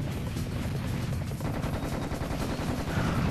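Gunfire from the video game Serious Sam: The Second Encounter, a dense, continuous barrage of rapid shots and explosive bursts that fills the whole stretch at steady loudness with no pauses.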